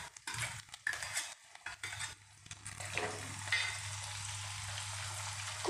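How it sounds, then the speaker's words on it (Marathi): Curry leaves hit hot oil with asafoetida in a pan over a lowered gas flame, crackling and sizzling steadily while a utensil stirs and scrapes intermittently. "कढीपत्ता टाकायचा।"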